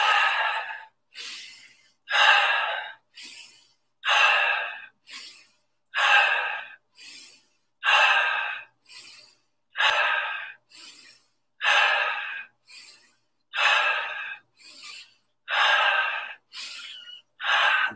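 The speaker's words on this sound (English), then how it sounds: "Inhale, going up," Deep, full-body breathing during a qigong exercise in a wide stance, with close, regular cycles of loud breaths in and out repeating about every two seconds, each long breath followed by a shorter one.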